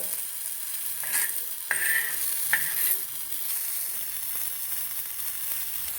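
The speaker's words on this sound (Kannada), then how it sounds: "ಈರುಳ್ಳಿ ಚೆನ್ನಾಗಿ ಫ್ರೈ ಆಗಿದೆ." Onions frying golden brown in a pan for peanut chutney, a steady hiss of sizzling oil with a few scraping stirs of a spatula early on, close and unaccompanied by speech.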